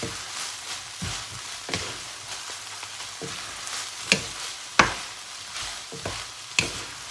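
Fried rice with naem fermented pork stir-fried in a pan, a rhythmic series of spatula scrapes over a constant sizzle, several strokes ending in sharp metallic clanks against the pan, heard up close with no voices.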